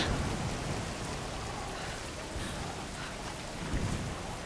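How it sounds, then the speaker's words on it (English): Steady rain hisses throughout a Tomb Raider game scene, with low rumbling thunder swelling near the start and again toward the end, no voices over it. "it's raining."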